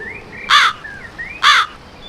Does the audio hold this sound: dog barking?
no